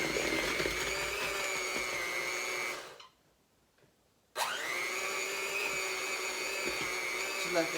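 An electric mixer whirs steadily through peanut butter dog treat dough, cuts out for a second or so of near silence, then starts again with the same loud, even whine.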